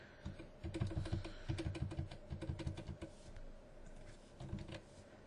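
Rapid keystrokes on a computer keyboard as a credit card number is entered into a QuickBooks payment module, a steady run of close, crisp clicks with brief pauses and no talk.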